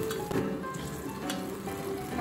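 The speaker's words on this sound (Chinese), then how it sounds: "柴鱼也下去爆煎香，把它煎焦黄焦黄这样子" Bonito flakes fry in a wok of hot oil, producing a faint, continuous sizzle and crackle that stays even throughout without any talking.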